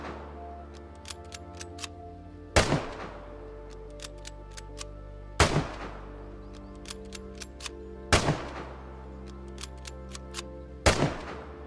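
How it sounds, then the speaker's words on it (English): A bolt-action rifle in the shooter game Vigor fires four loud, sharp shots spaced about three seconds apart. Each is followed by a quick series of metallic clicks as the bolt is worked and a round is rechambered, with a steady low hum underneath. "You can now see a small little bullet fly out from the bolt chamber when you fire and then, you know, rechamber the round."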